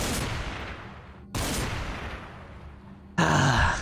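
Hunting shotgun firing buckshot in Cataclysm: Dark Days Ahead, with three loud, sharp blasts, each followed by a long decaying rumble, the last the loudest and brightest.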